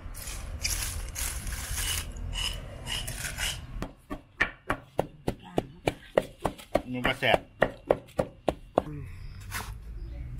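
Kaffir lime leaves pounded in a mortar for a fermented fish dip (pla daek bong) give a quick run of sharp, rhythmic close thuds. Talk and kitchen clatter come before them.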